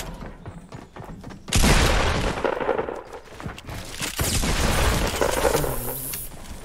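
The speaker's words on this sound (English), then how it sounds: "Eat some shotgun to the face" A shotgun fires in Fortnite with a sudden loud, close boom, and a second heavy blast follows a few seconds later over busy game noise.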